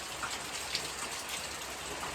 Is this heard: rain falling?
yes